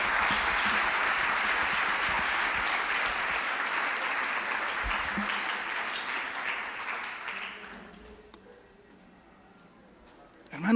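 A church congregation applauds in a dense, steady clatter of many hands that gradually thins and fades away into near silence.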